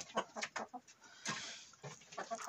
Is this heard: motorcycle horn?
no